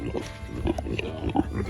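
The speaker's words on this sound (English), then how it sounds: "These are our 2 oldest pigs, Boudreaux and Cupcake" Kune Kune pigs grunt in a string of short, close, low snorts and grunts at an uneven rhythm.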